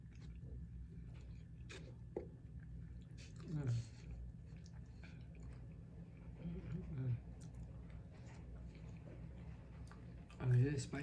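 Close, soft wet chewing of homemade red beans and rice in short bursts, with squishy bites and mouth noises, between stretches of talk.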